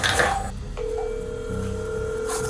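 A phone call is placed: a short electronic beep gives way to a steady ringback tone with a faint cadence, close and clear, no speech.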